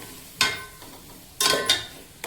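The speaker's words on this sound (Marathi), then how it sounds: "त्यात आपण हा खीस चांगला ह्या तुपात तो भाजून घेऊ 4 ते 5 मिनिटं" Grated carrot roasting in ghee for carrot halwa is stirred in a pan, giving a few separate scraping, sizzling strokes over a low steady background.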